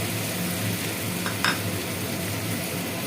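Spice paste ground with cashews and poppy seeds, plus tomato puree, stir-fried in a pan for paneer navratan curry, giving a loud, steady sizzle with a brief utensil scrape partway through.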